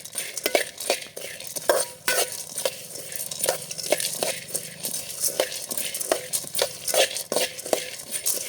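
Roasted gram and other ingredients deep-frying in a pan while being stirred briskly, rhythmic scraping strokes and metallic clinks repeating every half second over a steady sizzle, close and fairly loud.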